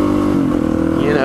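A Suzuki DRZ supermoto's single-cylinder engine revs briefly during a wheelie, a close, steady drone with a voice talking over it.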